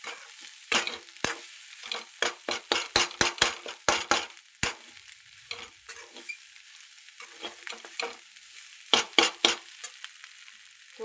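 Egg bhurji is stirred in a pan with quick, irregular scrapes and taps of a spatula against the metal, in bursts with short pauses over a faint sizzle, close and fairly loud.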